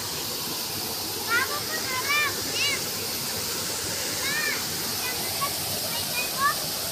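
A hillside waterfall pours with a constant loud rushing roar, while faint chirping and brief distant voices come and go over the water noise.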